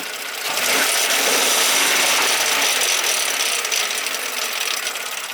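A turbo rattles loudly close by as the engine is revved, a dense metallic clattering and chattering that swells, holds and eases back slightly, with no talk over it.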